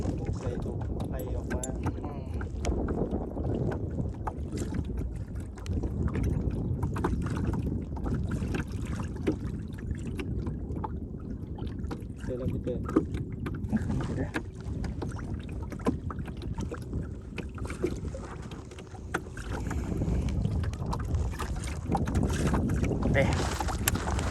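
Steady, loud wind roars and buffets the microphone continuously, with a rushing, churning background like being out on open water.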